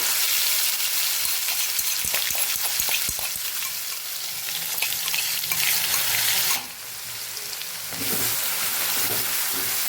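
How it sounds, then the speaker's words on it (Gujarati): Coarsely crushed garlic and ginger sauté over a low flame for Kathiyawadi garlic chutney, giving a loud, steady sizzle with scraping stirs early on. The hiss briefly drops near the end, then comes back. "અત્યારે આપણો ગેસ ધીમો છે અને બધું આપણે સાતળીએ છીએ"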